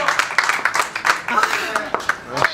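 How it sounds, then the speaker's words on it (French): Crowd applause for the winning rider at the finish of the Four Days of Dunkirk cycling race, scattered claps and cheers mixed with steady voices nearby throughout. "Allez, on lève les mains, on l'applaudit plus fort encore."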